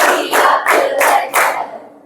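Students in a ninth-grade classroom clap in unison, loud and close, with four distinct rhythmic bursts of group clapping spaced roughly evenly, fading to quiet at the end.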